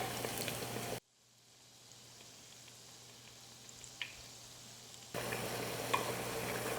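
Steady sizzling and crackling of a donut frying in hot oil, fairly quiet, with the sound dropping away briefly before returning.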